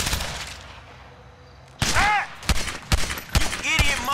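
Gunfire during a GTA 5 shootout, a quiet lead-in followed by several loud, close bursts of shots in quick succession, with a voice speaking briefly among them.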